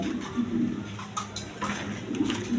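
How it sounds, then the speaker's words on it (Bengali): Denis pigeons at a pigeon sale coo softly nearby in low, rolling bursts, with light rustling and faint background noise between the calls. "এইখানে আরেক পেয়ার ডেনিস কবুতর আছে"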